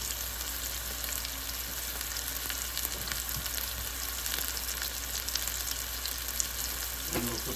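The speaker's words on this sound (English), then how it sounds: "I'm gonna let this cook for a while" Cheese-and-shrimp-stuffed chicken breast fries in a pan with a steady, fairly quiet sizzle that runs without a break, and a few small pops and crackles show up near the end.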